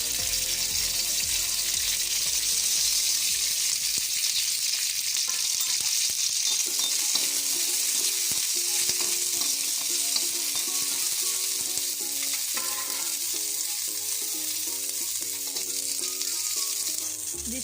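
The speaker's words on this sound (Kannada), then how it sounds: "ಈಗ ಒಂದು ಚಮಚ ಸನ್ಫ್ಲವರ್ ಆಯಿಲ್ ಹಾಕ್ತಿದ್ದೇನೆ. ಇದರಿಂದ ಗ್ರೀನ್ ಚಿಲ್ಲಿ ಎಲ್ಲ ಮಸಾಲೆಯನ್ನು ಸ್ವಲ್ಪ ಫ್ರೈ ಮಾಡ್ತೇನೆ." Green chilli masala sizzles steadily in sunflower oil in a pan, a loud, continuous frying hiss with faint stirring clinks and scrapes, no voices.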